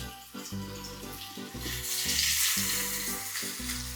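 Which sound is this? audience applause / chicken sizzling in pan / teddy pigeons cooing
chicken sizzling in pan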